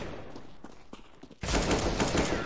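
AK-47 gunfire in Counter-Strike: Global Offensive. Faint scattered shots are followed by a sudden loud, sustained burst of rapid automatic fire that fills the final second.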